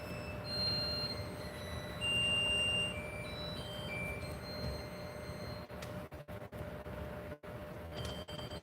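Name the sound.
kitchen timer going off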